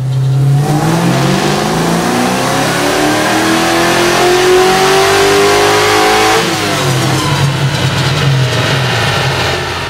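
A supercharged LS7 427 V8 in a 1969 Camaro revs hard on a dyno, climbing steadily to a screaming peak before dropping back, loud and close throughout.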